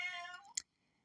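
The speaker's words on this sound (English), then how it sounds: "my kitty cat says hi if you can hear her in the background." A pet cat gives one drawn-out falling meow, quiet and fairly close. A short click follows, then silence.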